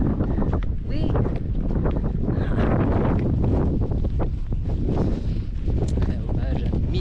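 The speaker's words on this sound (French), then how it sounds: "Je sais pas si on m'entend, il y a un peu de vent là." Steady wind buffets the microphone beside the upper lake of La Gaudivelle, a dense low roar with gusts that runs throughout and stays loud and close.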